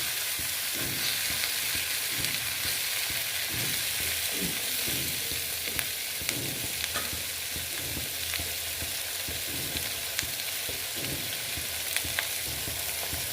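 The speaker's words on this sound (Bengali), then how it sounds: "এটার সঙ্গে ভেজে নিচ্ছি" Fish fat and curry ingredients fry in hot oil in a pan. A constant crackling sizzle is broken up by rhythmic stirring scrapes, close and clear with no talking.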